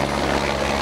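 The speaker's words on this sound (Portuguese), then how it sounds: "Do alto, o helicóptero Carcará deu apoio." The Polícia Civil's Carcará helicopter flies overhead during a police operation in Formiga, a loud, continuous rotor and engine drone filling the short moment with no voices.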